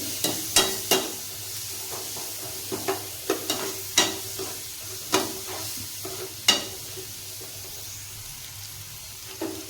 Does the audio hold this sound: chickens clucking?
no